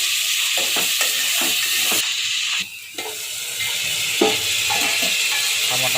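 Chopped tomatoes sizzling and frying in a pan for a mushroom curry, a steady loud hiss with occasional stirring scrapes and clinks, close up.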